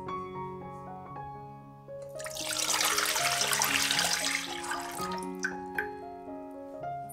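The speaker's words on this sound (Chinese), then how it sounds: "在锅里倒入适量的水" Water pouring into a cooking pot in a steady rushing stream for several seconds, close and moderately loud over soft background music, with no talking.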